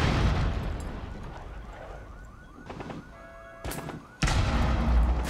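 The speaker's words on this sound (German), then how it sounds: "Ach, die schießt durch die Decke" Gunfire shooting through a ceiling in the video game Rainbow Six Siege, loud bursts and sharp impacts separated by a brief quieter stretch with ringing tones, ending in a heavy, sustained burst of shots.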